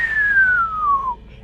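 A voice imitates a falling whistle, a single long tone sliding steadily downward for about a second before cutting off.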